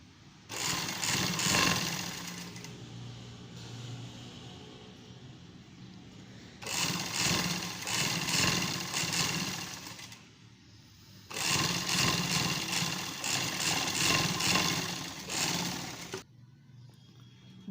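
A sewing machine stitches a sleeve onto a flare shirt in three long runs of steady rapid whirring and needle clatter, separated by short quiet pauses.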